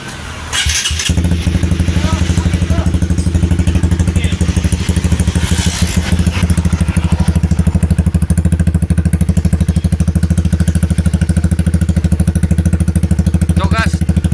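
A Honda CBR 150 Facelift fitted with a Norifumi-style exhaust starts up after a second, then runs close and loud with a steady, throbbing engine note that holds for the rest of the clip.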